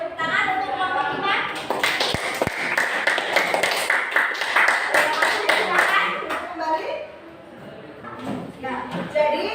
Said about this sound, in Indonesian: Kita kasih tepuk tangan untuk kelompok 5.